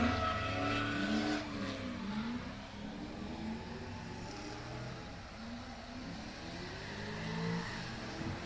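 Race cars crossing the finish line of a dirt track race at a $5k shootout, engines roaring and revving with pitch sweeps as they pass, a steady loud motor drone throughout.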